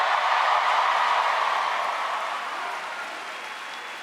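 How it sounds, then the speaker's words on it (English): A live audience at a Parks and Recreation tenth anniversary reunion applauds in a steady wash of clapping that gradually thins and fades over a few seconds. "I'm holding for your applause and you seem to be done"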